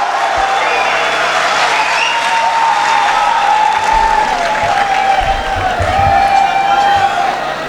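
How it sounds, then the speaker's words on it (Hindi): An audience at an annual mushaira poetry gathering claps loudly and steadily throughout, with scattered cheers and whoops mixed into the dense applause. "भरपूर तालियों में इस्तकबाल कीजिए"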